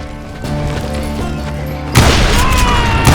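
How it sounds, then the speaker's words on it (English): Gunfire in Call of Juarez: Gunslinger cracks out in a sudden loud burst of shots and impacts after a stretch of quieter rumbling background noise. "Sounds like Garrett hired a whole regiment of hired guns"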